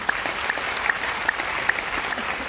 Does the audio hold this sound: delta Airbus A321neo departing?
no